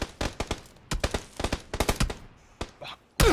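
Gunfire in a video game rattles in rapid bursts of close, sharp shots, broken by short pauses and ending with a louder blast.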